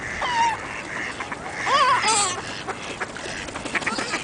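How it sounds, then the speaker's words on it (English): Ducks swimming on a pond at Kitchener Park give a few loud, nasal quacks, with gulls nearby and a faint outdoor background of other birds. "You see, so many ducks swimming here, and you see the seagulls."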